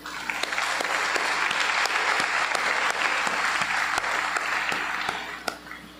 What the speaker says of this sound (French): par votre applaudissement.